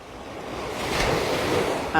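Sea waves wash onto a sandy beach at Ban Chang, Rayong, a steady surf roar swelling slightly under wind noise, with a brief sharper sound at the very end.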